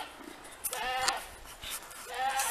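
A goat in a Jamaican yard bleats twice, a wavering nasal call followed a second later by a shorter one, both fairly close over faint background noise.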